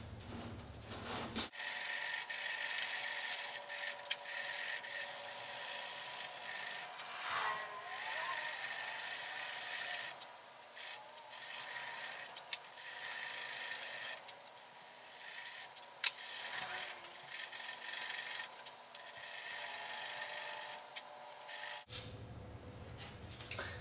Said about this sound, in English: These little pieces here are sanding off pretty easy